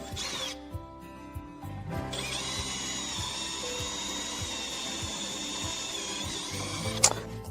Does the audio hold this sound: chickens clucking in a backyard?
no